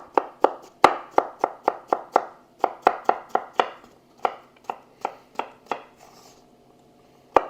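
A knife chops a fresh Persian cucumber on a cutting board in a quick, steady run of about two dozen crisp, close taps, briefly pausing before a few final cuts.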